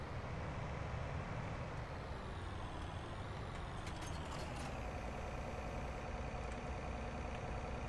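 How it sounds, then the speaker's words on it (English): Farming Simulator 19 John Deere tractor engine from the PS4 game, a steady throaty rumble running loud and continuous throughout with no pauses. "That John Deere sure rumbles."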